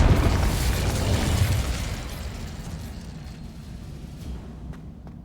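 An Incendio fire spell erupts in Hogwarts Legacy, a heavy, booming burst of flame that hits hard at the start and then rumbles and fades away over several seconds.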